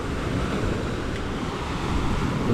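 Steady ocean surf washes continuously onto the shore at Bucana, mixed with wind rushing across the microphone, with no voices.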